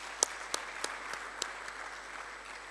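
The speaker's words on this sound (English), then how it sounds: "let's thank Prof. Ramose again with a full round of applause" Conference audience applauding a speaker, Prof. Ramose, a thin, distant scatter of a handful of separate claps over steady room noise, fading after about a second and a half.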